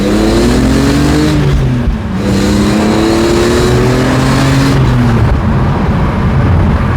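A BMW E46 M3 engine revs up twice in strong, rising pulls with a throaty but fairly restrained note through a closed exhaust, idling briefly between the revs.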